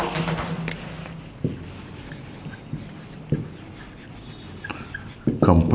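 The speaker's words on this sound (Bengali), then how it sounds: "তাহলে কম্পারেটিভ ডিগ্রিতে আমরা কী করব, চলো লিখে ফেলি" Pen strokes scratch across paper in short bursts, with a few sharp taps and brief pauses between the scribbling, close and fairly clear.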